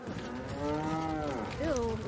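A cow in the Resident Evil 4 video game gives one long, drawn-out moo that wavers in pitch and ends with a short rising inflection. It is clear and moderately close.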